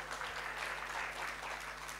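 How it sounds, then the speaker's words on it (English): Faint, steady applause from an audience at an academic summer course session, heard distantly and evenly throughout over a low electrical hum. "give applause for them"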